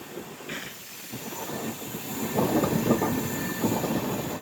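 Inside the Tiruchanur–Nanded Express (17634), diverted via Jammikunta and Peddapalli Junction, the train rolls with a steady rumble, swelling clatter of wheels and a brief high squeal near the start, all fairly loud and without talk.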